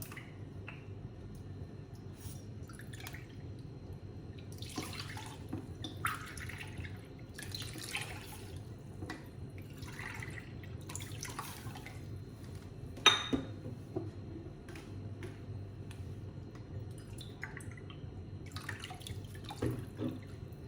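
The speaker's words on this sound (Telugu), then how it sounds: "నాలుగు కప్పులు వాటర్ వేసి ఒక 4 విజిల్స్ వచ్చే వరకు కుక్ చేసుకోవాలి" Water poured into a cooking pot to make curd rice in an Andhra home kitchen: intermittent splashing pours and drips over a low steady hum, with one sharp metallic clink partway through.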